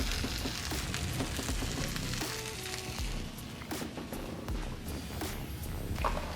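Pork chops sizzle and fry in a hot skillet, a steady, fairly loud crackle running through the whole stretch with a few brief scraping sounds near the middle; no one speaks.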